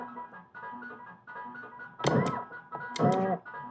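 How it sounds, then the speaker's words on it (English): Two sharp, electronic gunshot hits land on targets in Exidy's 1984 Cheyenne arcade gun game, each a bright burst over a looping synthesized tune, moderately loud and close. "I just keep shooting the taxidermy"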